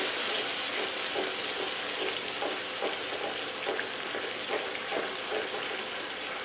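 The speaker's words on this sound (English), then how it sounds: "we're going to put it right in the pan. And we're going to get this melting down" Demi-glace melting in a hot pan for steak Diane gives a steady, even sizzle with soft bubbling and faint popping, close and continuous, with no speech.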